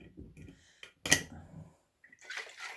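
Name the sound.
shaking a lidded jar of ginger switchel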